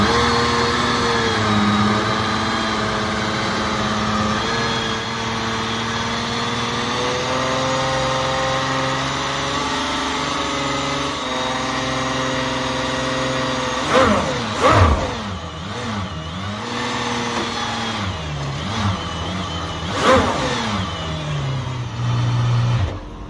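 An Aston Martin Valkyrie hypercar idles loudly at close range, its engine note shifting and swelling, then gives a couple of sharp revs that flare and fall away near the end.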